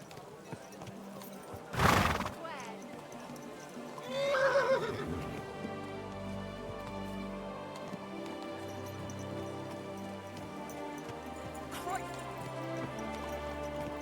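In Kingdom Come: Deliverance II, a horse neighs loudly, then a second whinny follows, with hooves clip-clopping over steady background music.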